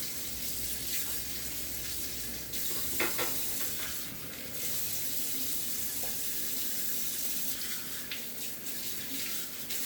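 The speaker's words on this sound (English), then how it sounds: "we're just going to stick these two in the sink after I rinse them off" Tap water runs steadily into a kitchen sink while bowls are rinsed, cream cheese residue in them, with a continuous hiss and occasional clinks and splashes close by.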